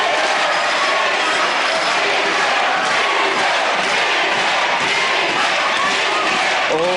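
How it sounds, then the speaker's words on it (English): A packed World of Sport wrestling crowd roars and cheers loudly and continuously, a dense wall of voices with shouts rising throughout. "Oh, the crowd love that."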